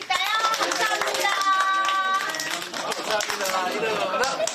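Young children at a marine corps base daycare burst into applause, their clapping loud and close and mixed with high children's voices calling out over a few seconds.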